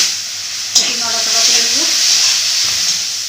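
Chopped onion and chili frying in hot oil in a home kitchen while a tomato rohu curry is cooked, a steady close sizzle with a stirring scrape and a voice speaking over it.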